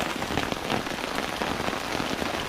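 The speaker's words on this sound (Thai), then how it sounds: "ผมมาถึงก็ฝนก็ตกเลยฮะ" Steady rain patters densely on surfaces at a riverside campsite below the Pa Sak dam in Lopburi, Thailand, a close, continuous hiss of drops with no pauses and no voices.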